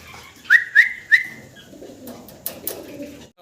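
A pair of large white king pigeons gives three short, fairly close calls in quick succession, then a quieter stretch with faint rustling and no talking.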